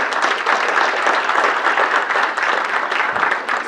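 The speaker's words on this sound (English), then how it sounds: "So yeah, we can clap for them." An audience at a PACT Act town hall claps steadily for veterans, a dense, even spread of many hands held at a strong, consistent level throughout.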